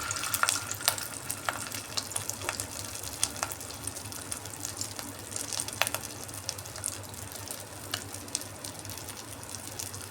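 Fish roe pakoras made with rohu roe and gram flour batter fry in hot oil, a steady close crackle and sizzle with scattered sharp pops throughout, no voices.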